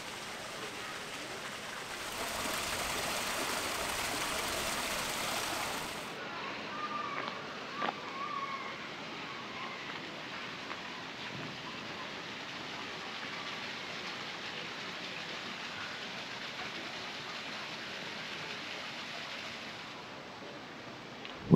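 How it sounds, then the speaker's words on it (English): Water pouring through gaps in old wooden lock gates on the Rochdale Canal at Hebden Bridge, Yorkshire, a soft continuous rushing splash heard at a moderate distance, slightly louder at first and then steady. "listen to the water pouring through the gaps in the wooden gates, controlling the flow of the water along the canal"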